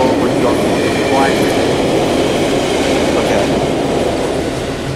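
A Metra commuter train rolls past a Chicago yard in a Roblox railfanning sim, a loud steady rumble of wheels and cars filling the whole stretch with light clickety-clack and no break.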